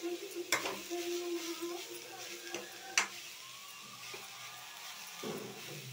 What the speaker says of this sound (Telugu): వేయించి బాగా వేపాలి, పచ్చివాసన పోయే వరకు.